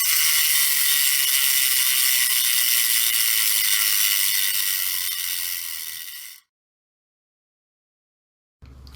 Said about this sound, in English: I know everybody want to hear the sound of the bearings, so let's put it next to the microphone and do that.